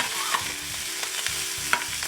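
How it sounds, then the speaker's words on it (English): Oil sizzling and splattering in a pan while nasi goreng kampung is stirred, with oil previously used to fry anchovies, giving a constant close hiss with brief sharp pops and scraping stir sounds. "the oil is like splashy, so it's like going everywhere"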